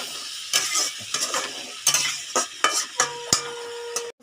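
Ground coriander, chilli and cumin with tomato sautéing in a pan, a soft sizzle broken by repeated scraping stirs and a few sharp clinks of a utensil against the metal, close and without talk.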